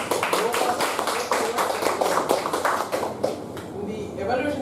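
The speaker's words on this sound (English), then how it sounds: "round of applause" Toastmasters meeting attendees giving a round of applause, short bursts of clapping alternating with a speaker's voice reading results, fairly close and moderately loud.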